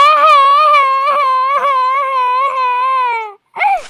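A small cartoon bird character cries in a high, wavering, sustained wail with sobbing pulses, loud and close, ending with a short rising sob after a brief pause.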